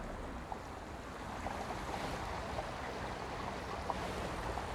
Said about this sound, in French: J'entends le clapotis de l'eau